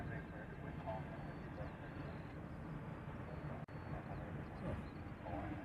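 A C-5 military transport aircraft approaches Honolulu airport in Hawaii, heard as a faint, distant, continuous engine rumble with no strong peaks.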